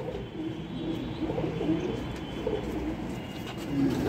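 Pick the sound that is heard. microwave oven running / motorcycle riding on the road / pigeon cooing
pigeon cooing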